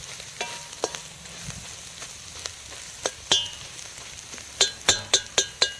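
Chili powder being stirred into frying masala for a Kerala pork roast: soft sizzling in a pan with a run of sharp spatula knocks and scrapes, growing into quick repeated taps near the end.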